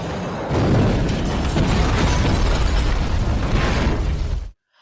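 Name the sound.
bomb explosion in a film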